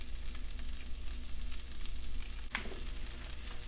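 Stock concentrate being stirred into a pan of shrimp and scallop scampi with butter and garlic, a steady sizzle and scraping stir running throughout, with one sharper clink of the utensil near the end.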